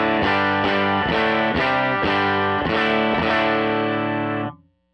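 An electric guitar played through a Tonex amp model with the presence raised gives distorted, rhythmically strummed chords, loud and upfront. It ends on a held chord that cuts off, with no talk.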